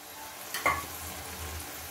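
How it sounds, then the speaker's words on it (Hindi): Onion paste frying in a pan with peas gives off a soft, steady sizzle, with a brief clink and stir partway through, heard close and fairly quiet. "दोस्तों अब हम इसमें अपने प्याज का पेस्ट ऐड करेंगे। मैं 2 चम्मच प्याज का पेस्ट ऐड कर रहा हूँ"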